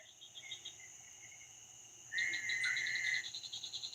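Frogs croak at night beside a catfishing spot, giving steady pulsing trills with a louder, closer burst partway through over a quiet outdoor background.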